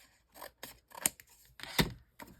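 Scissors trimming material with a few crisp separate snips and soft rustles, close by and fairly quiet, with no talking.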